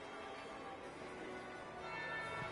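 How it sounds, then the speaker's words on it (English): A single church-style bell tolls inside the Dragon Age: Inquisition game world, its steady ringing carried over a continuous ambient background with no talk. "That would be the second bell."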